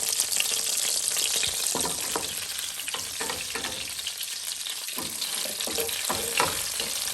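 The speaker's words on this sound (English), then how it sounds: "the bacon's still cooking" Bacon frying in a pan for carne en su jugo, a steady dense sizzle and crackle running throughout at close range with occasional sharper pops and stirring scrapes, no talking.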